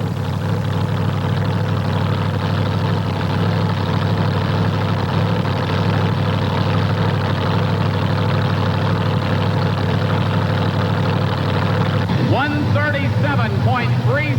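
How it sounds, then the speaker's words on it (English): A Chevrolet-powered pulling truck engine runs loud and steady at a truck pull event, a heavy continuous engine drone with a rising wind-up near the end. "David Poor winds up that engine, cleans it out."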